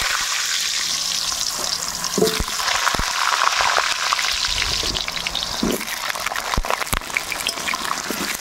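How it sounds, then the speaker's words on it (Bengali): Potatoes for meat curry and aloo dum fry together in plenty of hot mustard oil, a loud, continuous close-up sizzle with a few sharp pops and crackles scattered throughout. "তেল গরম হয়ে গেছে, মাংসর আলু আর আলুর দমের আলু একসঙ্গেই ভেজে"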